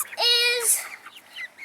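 Young chickens in a coop under a heat lamp give a short, clear, high-pitched call that rises and falls, followed by softer scattered peeps close by.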